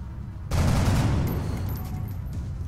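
A loud burst of gunfire in the X-COM turn-based strategy game erupts after a brief quiet moment, a dense rattling volley that tapers into a rumbling tail, with no voices present.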